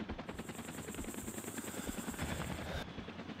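A helicopter in the military combat game ArmA 2 flies with a loud, steady rotor thump and engine whine that holds throughout.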